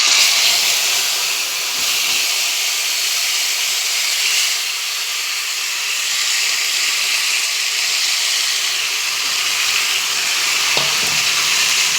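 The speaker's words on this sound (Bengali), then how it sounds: "এবার এই যে মাছগুলো যে ম্যারিনেশন করে রেখেছিলাম, মাছগুলোকে দিয়ে দেবো।" Marinated catla fish frying in hot oil for a Bengali fish curry gives a steady, close sizzle and hiss that runs unbroken throughout with no talking.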